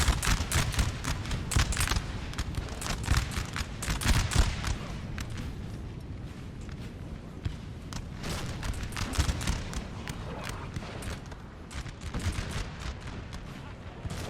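Napoleonic-era musket and cannon fire from the video game Napoleon Total War, a dense, continuous crackle of volleys with heavier booms mixed in, loud and layered throughout with no pauses.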